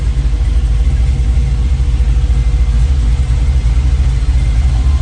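A Chevrolet Nova with a new transmission rumbles steadily at idle, a loud, close, low engine drone that holds even throughout without revving.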